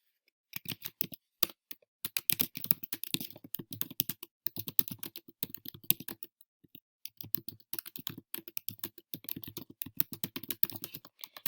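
Rapid, uneven clatter of keys being typed on a computer keyboard, close and crisp, in bursts with a brief pause midway, and no voices over it.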